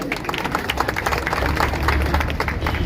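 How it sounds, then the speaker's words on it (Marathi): A crowd claps at a TVS Jupiter scooter launch event in Malegaon, with scattered, uneven hand claps over a low rumble of background noise. "एक ठा टाळ्या होऊन जाऊ द्या सर्वांसाठी"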